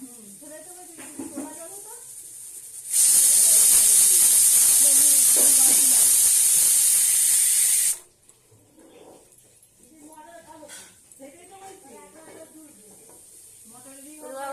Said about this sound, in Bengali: এবারে টিউবওয়েলের জল এবারে পাম্প করা হচ্ছে